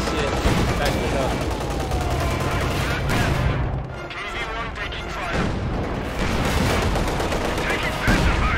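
Dense gunfire and machine-gun bursts hammer at a KV-1 tank in the game Company of Heroes, loud and continuous, with explosions mixed in and game voice lines over the barrage.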